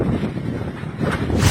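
Fierce typhoon wind batters Batanes during a signal number 4 storm, a loud, continuous roar buffeting the microphone with no break and swelling near the end.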